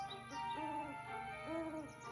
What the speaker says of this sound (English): That's right, the owl is hooting.